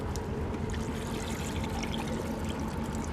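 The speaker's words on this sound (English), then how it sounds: "and pour a sample in here." Lake water from a Canadian park is poured as a sample into a container, giving a steady, soft, continuous trickle that lasts throughout with no speech.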